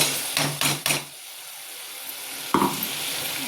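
Tomatoes go into frying onions for biryani and get stirred, with a few quick clattering spoon strokes against the pan, a quieter sizzle, then another scraping knock.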